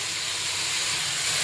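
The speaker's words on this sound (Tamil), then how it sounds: "ஆனியனை வந்து நல்லா வதக்கிக்கலாம்" Onions sautéing in a pan while healthy weight-loss food is cooked at home, a steady close hiss of sizzling oil running through the whole short stretch with no talk.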